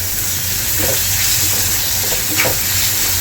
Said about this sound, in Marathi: आता इथे आपण मुगाची डाळ घालायची आहे आणि याला छान परतून घ्यायचं आहे